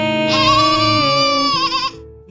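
A baby goat on a farm gives one long, loud, drawn-out bleat with a wavering, quavering pitch that trails off at the end.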